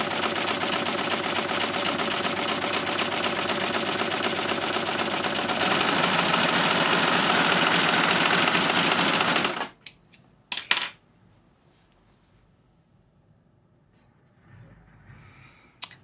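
A LUCIE overlocker by Success runs steadily while sewing a rolled hem on quilting-cotton-weight fabric, a loud continuous whirring that stops abruptly, followed by a few brief clicks and near silence.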